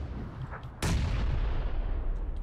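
A grenade in the shooter game PUBG goes off with one sharp, loud blast that rolls into a fading rumble, with faint clicks before it and no voices.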